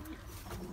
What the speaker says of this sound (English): pigeons nesting like mad, no joke